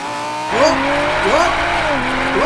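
A tuned 560 hp Audi S4 races a Lamborghini Huracan Evo, engines revving up in rising sweeps and shifting through gears in loud, repeated climbs, with an excited voice shouting over the roar.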